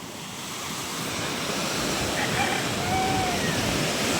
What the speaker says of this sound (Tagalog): hindi naman kalakihan yung alon ngayon. High tide lang talaga